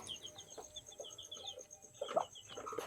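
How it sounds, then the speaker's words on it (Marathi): A hen with her chicks makes soft, faint clucks and peeps in a farm shed at night, scattered brief calls over a quiet insect-like background hum. "एक कोंबडी आणि तिचे पिल्लं ते पण इथे मित्रांनो खाद्य खाऊन आराम करत आहे"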